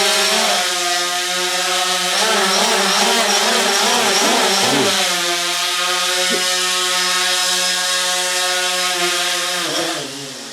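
Small electric propellers of a model moon lander whir with a strong harmonic buzz, pitch and loudness shifting as the craft tilts and the motors on one side speed up, close and loud, then cutting off near the end.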